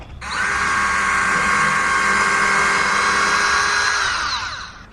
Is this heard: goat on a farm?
no